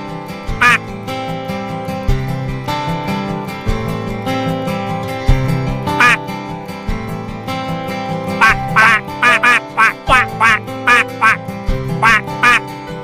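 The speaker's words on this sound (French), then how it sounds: "Regarde Oliver, c'est un canard!" A cartoon duck in a children's game quacks again and again, first in scattered single calls, then in a rapid string of loud quacks over a repeating musical backing.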